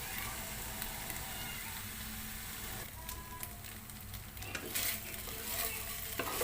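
Beef browns in a single pan over a medium flame for a Filipino-style beef broccoli, giving a steady close-up sizzle, with scraping stir strokes and a few sharper crackles partway through.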